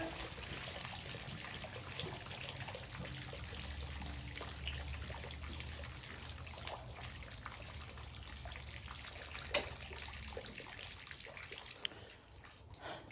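Water trickles and splashes steadily at low volume as it runs into a horse stall, a continuous running flow with a couple of faint knocks near the end.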